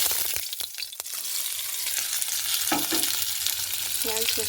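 Chopped onion added to hot oil with cumin seeds in a wok sizzles and fries steadily, with a few stirring scrapes and clinks of a utensil, close and continuous throughout.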